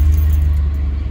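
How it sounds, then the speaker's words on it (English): A 2002 Honda Odyssey engine running just after starting, a loud, steady low rumble close by with a faint rattle over the top. "But we'll start it."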